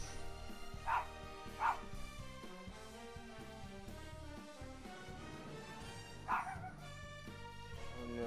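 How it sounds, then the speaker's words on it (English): A dog in a yard gives three sharp single barks at a squirrel, two close together and then one more several seconds later, over a steady background of music. "Mika, what the hell are you barking at? It's a squirrel"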